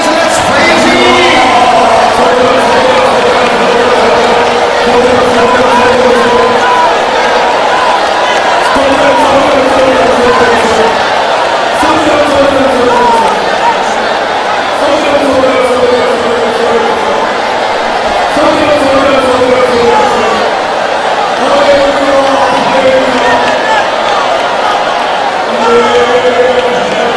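Church congregation praising aloud at a dawn service, many voices shouting and calling out together in long swelling waves, loud and close, with a leading voice rising over the crowd throughout.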